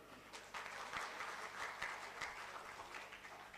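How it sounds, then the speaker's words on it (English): An audience at a statistics conference gives a round of applause, a steady soft patter of clapping from a crowd heard at some distance. "I request the audience to please have a round of applause for all of them"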